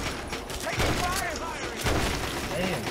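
Heavy gunfire from enemy soldiers in Fallout 3's Anchorage setting: a dense, continuous battle din with a couple of stronger booming bursts standing out, fairly loud and sustained throughout.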